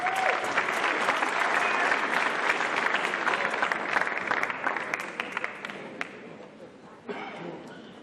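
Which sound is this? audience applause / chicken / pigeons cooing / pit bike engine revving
audience applause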